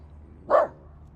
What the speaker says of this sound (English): There's a delivery guy that the dog is barking at.